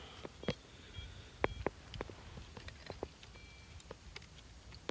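A metal detector sweeps over a buried object in a wheat field and gives several short, faint high-pitched beeps. Soft clicks and thumps of handling and digging sound between them, with no talk.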